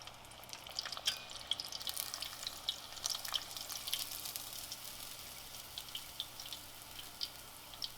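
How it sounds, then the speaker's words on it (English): Pork cutlet (tonkatsu) frying in hot oil, a soft continuous sizzle broken by sharp scattered crackles and pops, close by with no voices. "Hear that crackling?"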